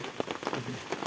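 Rain falls in a rural Thai village setting, a brief burst of dense, close patter with uneven drop impacts.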